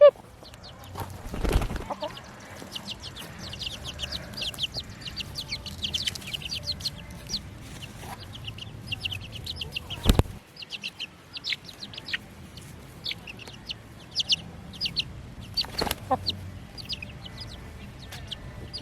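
Young chicks outdoors peep and cluck in quick, high chirps scattered across the whole stretch, close by, with a few louder thumps and handling noises breaking in.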